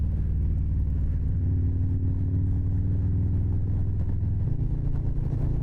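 Steady low motorcycle engine rumble, held at a constant drone with a slight pitch shift partway through rather than sharp revs, loud and continuous throughout with no talk.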